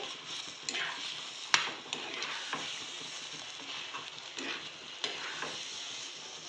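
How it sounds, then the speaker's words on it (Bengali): Semolina stirred in a pan while making pitha, a soft continuous scraping and faint sizzling with a few sharper clinks of the spoon against the metal, close and alone. "সুজিটাকে এখন ভালো করে নাড়তে হবে।"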